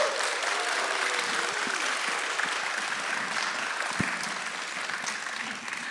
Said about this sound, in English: Let's give a warm round of applause for our panelists today.